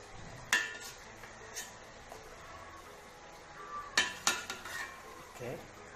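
Milkfish (bangus) pieces go into a pot of onion, ginger and tomato, with several sharp clattering knocks of utensils against the pot and a faint sizzle, and no voices.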